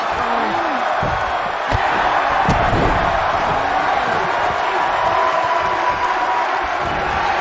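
A wrestling arena crowd roars steadily for Mayu during a women's fatal four-way match, a continuous wash of cheering with a few thuds and slams cutting through.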